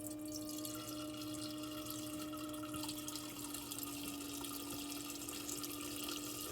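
Fuel draining in a steady, continuous liquid stream from the fuel rail of a 1995 Ford van, a constant trickling flow with a faint hum underneath, no talk.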